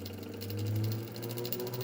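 The electric drive motor of a homemade magnetic generator setup whirs with a steady tonal hum that rises slightly as it speeds up, heard close and alone without any talking.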